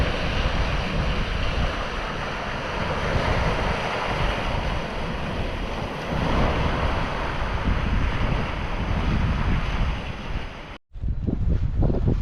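Ocean surf rolls steadily onto a beach on the Northumberland coast, with constant broadband wash and gusty wind buffeting the microphone throughout, briefly cutting out near the end before the roar resumes.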